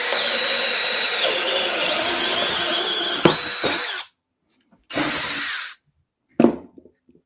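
A Milwaukee 12V cordless drill bores into a workpiece, its motor whining loudly and steadily for about four seconds before stopping, followed by a shorter burst and a brief final spurt with silence between.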